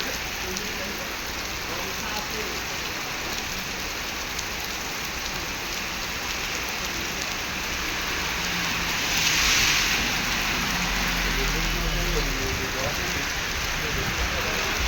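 Heavy rain and strong wind in Madinah, Saudi Arabia, making a dense, constant hiss that swells louder toward the end, with wind roaring steadily underneath; a voice briefly speaks in the background.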